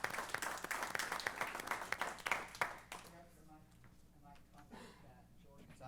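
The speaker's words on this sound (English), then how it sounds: "So let's give Jordan a little round of applause." A small room applauds an intern named Jordan, a few seconds of brisk clapping that fades out into quieter talk.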